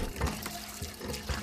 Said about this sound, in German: Mit einer Pumpe können die Frauen und Kinder das Grundwasser an die Oberfläche befördern.